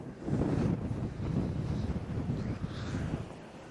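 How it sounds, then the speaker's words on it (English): Strong wind at a lakeside fishing spot buffets the microphone in heavy, gusty roars that rise and fall throughout, with no talking. "Bloody hell, it's windy."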